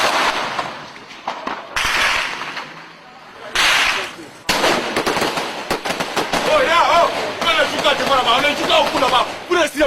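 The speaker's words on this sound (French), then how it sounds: "Vous tirez sur les gens, il y a quoi?" Gunfire erupts during a chaotic armed seizure of a president, with rapid bursts of shots and sharp cracks under shouting voices, loud and close amid the commotion.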